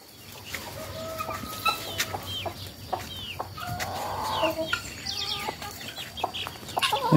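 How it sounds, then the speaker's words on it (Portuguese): Free-range chickens of mixed breeds cluck and squawk repeatedly in a farmyard in the early morning, with a rooster crowing, close and fairly loud over outdoor background noise. "Aqui nós temos as galinhas,"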